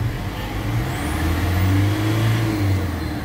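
A manual Isuzu MU-X diesel engine revs to around 3,000 RPM during a diagnostic check, giving a steady, loud, close mid-pitched engine drone that rises slightly and holds, with no talking.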